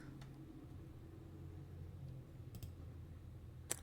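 Arrow keys on a computer keyboard click a few times, sparse and faint, over a low steady hum with no talk.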